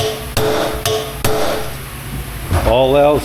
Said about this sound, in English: All else fails, get out the hammer.